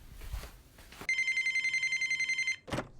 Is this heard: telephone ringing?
yes